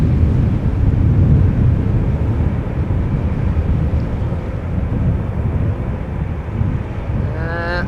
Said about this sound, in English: this is KLM flight 427, the 787-10 Dreamliner outbound to Dubai, making its way over to the threshold of 18 left for departure